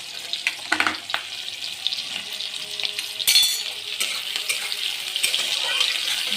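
Nigella seeds and slit green chilli frying in oil while being stirred, an uneven crackling sizzle with clattering scrapes and a brief louder burst in the middle, faint voices occasionally under it.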